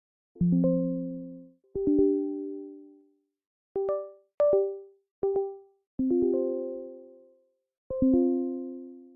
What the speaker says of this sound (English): don't forget about system sounds